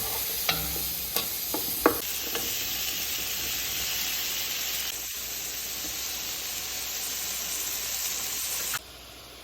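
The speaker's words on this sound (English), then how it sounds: "we got these beautiful mushrooms going, the onions going, the fresh thyme, salt, pepper, garlic" Mushrooms, onions and fresh thyme with garlic sizzle and fry in a pan for beef stroganoff, a steady close hiss with a few clinks of a utensil near the start.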